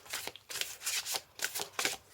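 Oracle cards from an angels-of-love deck being shuffled by hand: several quick, close riffling bursts in a steady rhythm, soft papery flutters separated by brief pauses.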